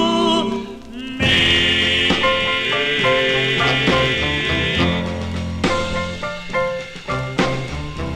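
Doo-wop vocal group record from 1956, with a full, continuous blend of voices and backing instruments playing throughout, loud and steady with rhythmic accents.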